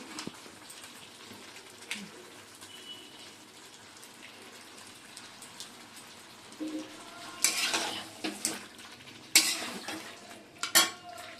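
Chicken is sautéed in a pan with a faint sizzle, punctuated by scraping spatula strokes and metallic clatters of utensil against cookware that grow louder and more frequent toward the end.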